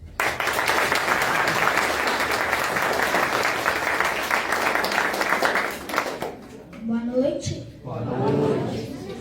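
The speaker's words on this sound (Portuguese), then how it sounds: "Palmas para ele." Audience applauding at a poetry night, a dense sustained clapping that fills about six seconds, then thins out and stops as a voice begins speaking.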